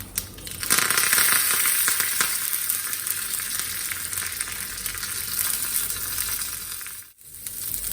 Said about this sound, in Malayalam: ഇനി ഇതിനകത്തോട്ട് നമുക്ക് അരിഞ്ഞു വെച്ചിരിക്കുന്ന ഉള്ളിയും കറിവേപ്പിലയും കൂടെ ആഡ് ചെയ്ത് കൊടുക്കാം